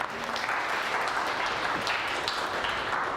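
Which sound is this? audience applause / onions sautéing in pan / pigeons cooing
audience applause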